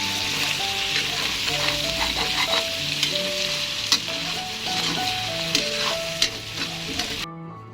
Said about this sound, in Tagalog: iuna ang ahos, sunod ang luya, pukayon, idagdag ang lamas, pagkahuman karne